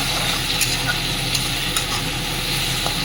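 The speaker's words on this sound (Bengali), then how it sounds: "এবার রসুন দিয়ে আমি একটু নাড়তে শুরু করি।" Garlic paste frying in a pan while being stirred, a steady close sizzle with soft scraping strokes of the spoon running throughout, no talking over it.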